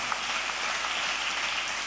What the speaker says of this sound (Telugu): చప్పట్లు కొడితే యేసయ్యకు స్తోత్రాలు చెప్తాం.